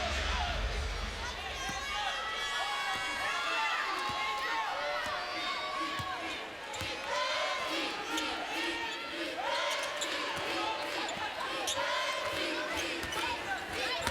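Women's college basketball crowd at an NCAA first-round game between Notre Dame and Stephen F. Austin gives departing players a warm hand, sustained applause and cheering under a commentator's talk, with sneaker squeaks and bounces mixed in.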